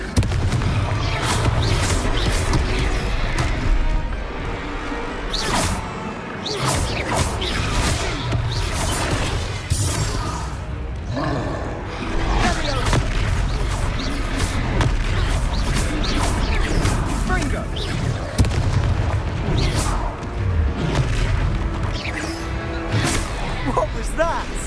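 Booming fire-spell explosions from the Confringo spell in Hogwarts Legacy, with repeated blasts and crashes layered over a dense, continuous battle din, with voices talking throughout.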